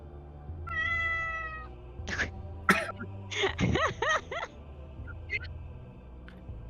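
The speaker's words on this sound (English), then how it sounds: "That was a cat noise." A cat gives several strained meows and pained cries, fairly close, with a harmonic wail early on followed by shorter, choppier yowls amid low background rumble.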